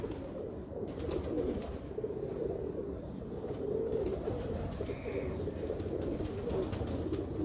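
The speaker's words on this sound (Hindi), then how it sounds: "ये मैं आपको वो कबूतर दिखाने लगा हूँ।" Pigeons coo in low, soft, repeated calls at close range, a steady murmuring chorus from a pigeon loft with light background noise and a brief higher chirp.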